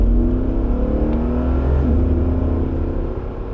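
Electric Mercedes G-Wagon cruising on a freeway, a loud, continuous road and wind rumble with a low tonal motor whine that shifts slightly in pitch, heard from inside the cabin without talking.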